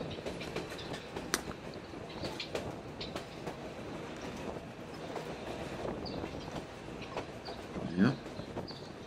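A train on the line to Skagway rolls steadily along, with continuous rumbling and clattering of the cars on the track and scattered metallic clicks. A brief chirp is heard near the end.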